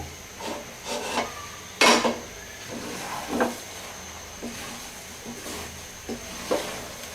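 A spoon scrapes and stirs soft khichuri in a cooking pot on the stove, with scattered rubbing scrapes and one sharper knock over a quiet hiss.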